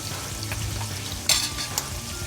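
Ingredients for ripe mango gojju fry in a pan toward golden brown with a steady, moderate sizzle. Two brief sharp stirring scrapes stand out partway through.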